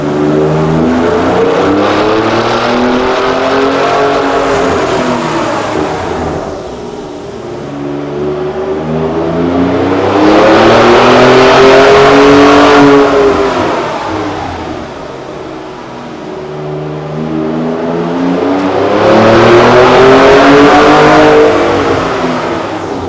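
A turbocharged car engine runs on a dyno after a turbo, exhaust and tune upgrade, loud and steady as it revs up through repeated long sweeps, dropping back between pulls, with no talk over it.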